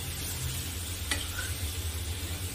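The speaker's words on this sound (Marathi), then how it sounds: "याला आपण असं परतून घ्यायचं आहे छान" Potatoes sauté in a pan for a potato curry, a steady soft sizzle over a low hum, with a single sharp click partway through.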